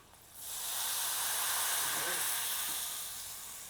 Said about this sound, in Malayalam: പുളിവെള്ളം ഇതിനകത്തോട്ട് ഒഴിച്ചു കൊടുക്കാം നമുക്ക്